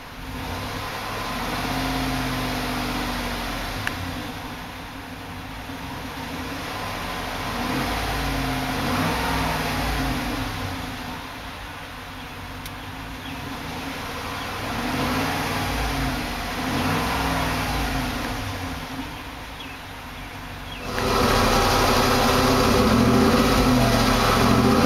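A 2009 Hummer H2 Sedona Metallic Black Chrome Edition runs with a steady, loud exhaust rumble, settling and rising through idle with a few mild revs and a louder surge near the end.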